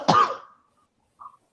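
A single harsh cough bursts out close by, followed after a pause by a short, faint throaty sound.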